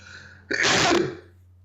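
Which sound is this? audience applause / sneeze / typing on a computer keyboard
sneeze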